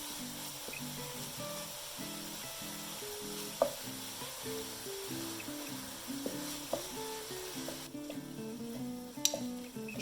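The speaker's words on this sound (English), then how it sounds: "Girare tanto, stir, to keep stirring so the meat doesn't get too thick." Ground beef, added after pork, sizzles steadily in a pan for a Bolognese sauce while a spoon stirs it in a repeated scraping rhythm, with a couple of sharp utensil clicks against the pan.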